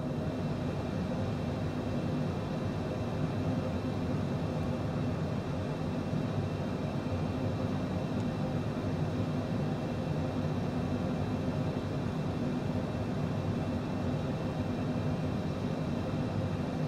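Steady, unbroken engine drone of a Cessna in Microsoft Flight Simulator 2020 on approach to Oslo, Norway, a dense constant hum with no talk over it.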